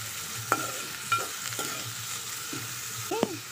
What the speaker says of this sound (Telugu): గోల్డెన్ బ్రౌన్ కలర్ వచ్చేదాకా వేపుకుందామండి